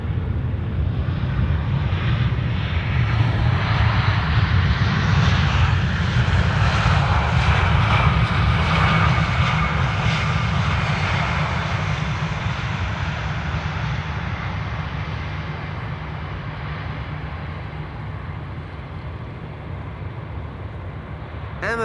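Vueling airliner landing at Amsterdam Schiphol Airport, its jet engines giving a loud, steady roar that swells around the middle of the pass and then slowly fades as the aircraft moves away along the runway.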